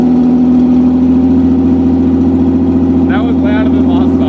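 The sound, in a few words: Toyota MR2 V6 engine starting and idling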